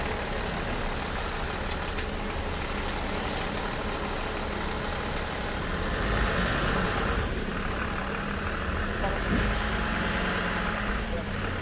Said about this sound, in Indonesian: Ini terdengar renyah banget ya untuk suara mesin depan.